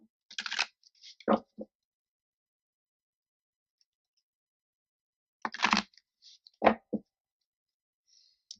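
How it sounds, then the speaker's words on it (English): Angel oracle cards being shuffled by hand: two short, crisp papery bursts of riffling, each followed by a couple of sharp taps, with a long quiet gap between them, close and fairly soft. "I'm feeling 2 more shuffles and we'll give it a go."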